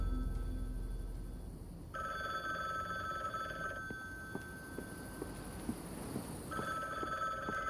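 In the video game The Book Walker: Thief of Tales, a telephone rings in two clear electronic bursts separated by a pause, over a quiet ambient background with no talking.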